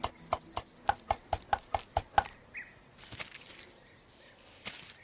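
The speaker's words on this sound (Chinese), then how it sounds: "不同部位剁碎" A blade chops different cuts of offal meat on a board, about nine sharp, evenly spaced strikes in quick rhythm, close and crisp, followed by quieter shuffling and handling sounds.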